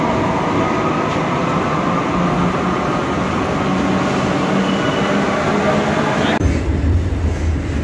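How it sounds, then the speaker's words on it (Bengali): A metro train runs at a Kolkata underground station, a loud steady rumble of wheels and motors that carries on, then abruptly shifts to a deeper, heavier roar near the end, with no talk over it. "এখন মেট্রো ট্রেনের অপেক্ষায়।"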